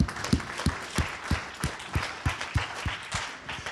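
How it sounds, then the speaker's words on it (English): Audience applause at a tech keynote on cloud-native engineering, a fairly steady patter of clapping with a few distinct louder claps standing out, moderately distant and even throughout. "Please, let's give all of them another applause,"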